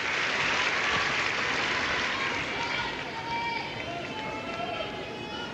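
Arena crowd applauds after a women's gymnastics vault at the 1993 World Championships event finals, a loud, steady wash of clapping that fades slightly toward the end, with commentary over it.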